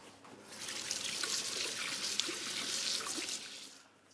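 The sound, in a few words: washing hands under running tap water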